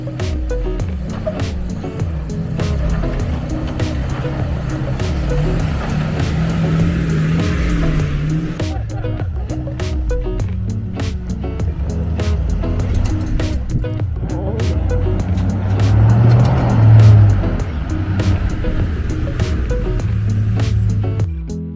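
An overland vehicle grinds up a short, rutted hill climb on the White Rim Trail, its engine droning steadily and loudly throughout, swelling near the end with some tire scrabble.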